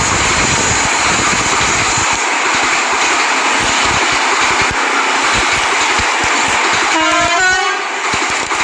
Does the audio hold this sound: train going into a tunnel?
yes